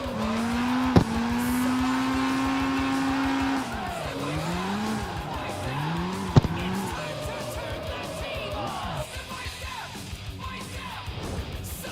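In the CarX Street racing game, an RS20 car drifts with a steady engine drone and long tire squeals that rise and fall through the turns. Two sharp clicks break in, and a faint voice shows up only briefly.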